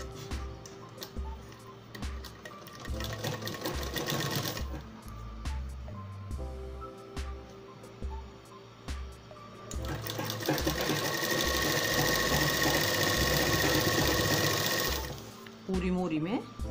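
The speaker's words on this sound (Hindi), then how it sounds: "पूरी मोरी में ऐसे ही सिलाई लगा लेंगे, ठीक है।" A sewing machine stitches the decorative hem of designer shorts in repeated bursts, stopping and starting several times before a long continuous run, close and clear.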